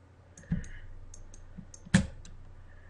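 A computer mouse gives sharp, close clicks during video editing, with two distinct louder clicks and a few fainter ones spread over a quiet background.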